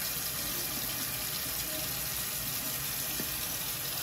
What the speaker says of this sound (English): I'm just gonna fill that can up with some water and let it pour out.